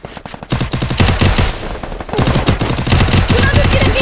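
Loud, rapid bursts of Garena Free Fire gunfire, continuous automatic shots crackling close by with a few brief gaps.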